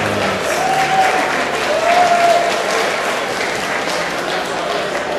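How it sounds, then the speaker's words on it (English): Steady, loud applause from a large crowd at the Jacob Henry Mansion in Joliet, Illinois fills the space, with a faint whistle or cheer rising briefly above the clapping. "let's give them a big round of applause"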